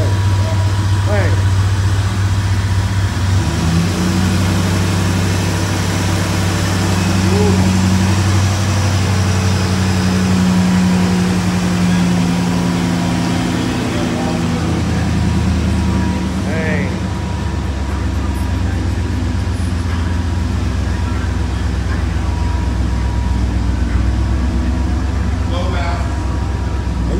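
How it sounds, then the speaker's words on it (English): Chevrolet IROC-Z28 Camaro engine idling steadily after a cold start, a loud continuous low rumble throughout with someone talking over it at points. "Man, this engine ain't shaking, rocking. It's still mounted to everything."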